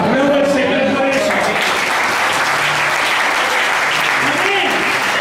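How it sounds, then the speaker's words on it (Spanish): A church congregation bursts into sustained, loud applause during a worship service, dense clapping filling the whole stretch, with faint voices and musical tones mixed in underneath. "Aplauda al Señor por eso."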